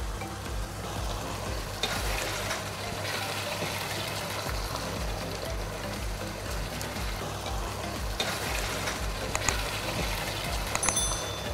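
Chicken with whole spices such as cardamom, cinnamon stick, star anise, cloves and black pepper fries and is stirred in a pot, giving a steady close sizzle with scraping stir strokes throughout and no talk.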